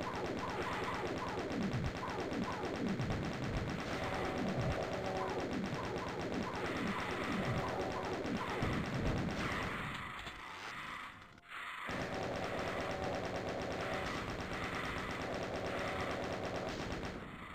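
Rapid, continuous chain gun fire in the video game Doom 2, a dense run of quick mechanical shots that pauses briefly and then resumes at a steady pace, loud and close, with no talking.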